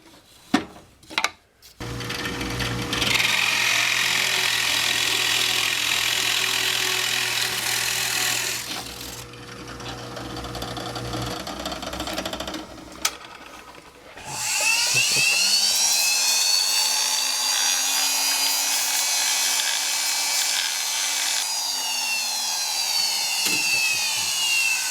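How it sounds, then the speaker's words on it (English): Sanding a custom wooden focus shifter with a small rotary power tool, a loud continuous whine that stops briefly, then restarts and holds steady to the end. "Use that and then just sand it a little."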